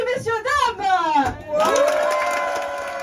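Audience on a boat tour erupts into cheering: a loud rising whoop and shouts, then a dense wash of applause and crowd noise that gradually settles.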